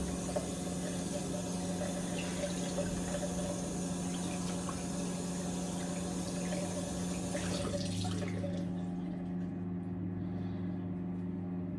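Hot water running steadily from a tap, a constant hiss and splash that stops near the end, leaving a quieter background hum.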